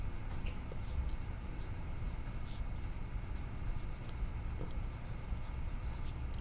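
A pen scratches quietly across paper while a chemistry formula for aluminum chloride is written out, a faint, steady scribbling with soft strokes and brief taps under low room hiss.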